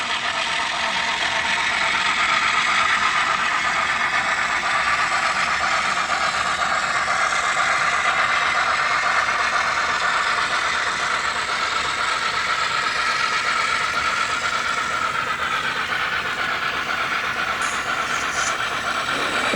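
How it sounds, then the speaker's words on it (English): A model steam engine train runs along its track, a continuous mechanical rumble and rolling clatter holding steady for the whole stretch, with no voices. "Hey, here's the steam engine."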